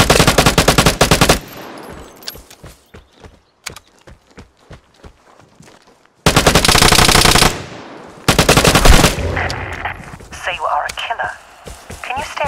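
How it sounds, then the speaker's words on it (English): Rapid bursts of KK rifle fire in the video game Vigor, a loud sustained automatic volley, then a string of evenly spaced single shots fading, followed by two more heavy bursts of close, harsh gunfire. "they had a KK. Basically a rapidly firing SKS."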